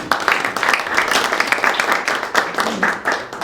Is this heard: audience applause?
yes